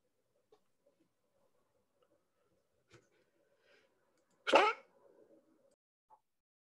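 A single sharp sneeze bursts out near the middle of an otherwise quiet room, close and loud, with a few faint ticks and small noises scattered before and after.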